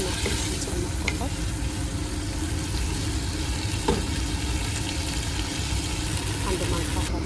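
Chicken fries and is stirred in a pot for maqluba, a dense, steady sizzle with occasional scraping clinks of the spoon, loud and close throughout.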